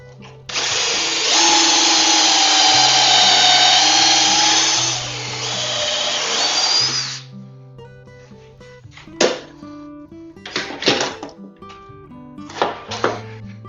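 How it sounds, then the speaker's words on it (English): A power drill whines loudly and steadily for several seconds as it bores a pocket hole into wood through a Kreg pocket hole jig, then stops, followed by scattered clunks and handling noises. "Take your drill, drill it through."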